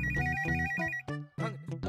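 A telephone ringtone sounds for an incoming call in a Pakistani TV comedy drama scene. A bright, repeating electronic melody plays loud and close, with short pauses between phrases and no talk over it.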